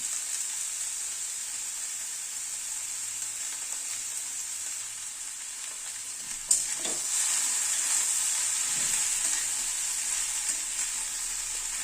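Grated boiled egg being stirred into a cauliflower and tomato curry in a pan, a steady soft sizzle of frying throughout with a brief scrape and clack of the spoon midway, close and alone without talk.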